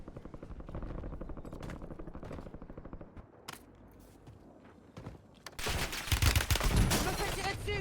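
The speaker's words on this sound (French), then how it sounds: "Je me fais tirer dessus." Rapid automatic gunfire in the Call of Duty Warzone video game, with dense bursts of shots, a pause with scattered single shots, then a louder, heavier volley near the end.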